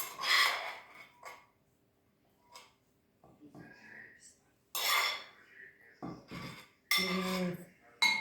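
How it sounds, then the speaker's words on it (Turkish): A metal spoon scrapes and taps as it scoops cooked red lentil mixture into a food processor bowl in a home kitchen, with intermittent short clinks and rubbing sounds between bursts of talking. "Kaşık yardımıyla rondonun içine koyuyoruz böyle."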